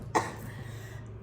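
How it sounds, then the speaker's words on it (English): A single sharp cough bursts out near the start, followed by a quiet pause and the onset of another cough at the very end, close and fairly loud against a low background hum. "A coughing attack."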